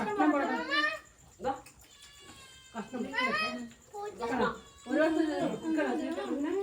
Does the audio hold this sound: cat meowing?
yes